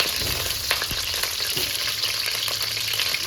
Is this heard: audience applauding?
no